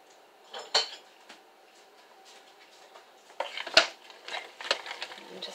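A wooden spoon mixing hamburger soup ingredients in a pot, giving soft knocks and scrapes against the sides, with a few sharper clacks among quieter stretches of stirring.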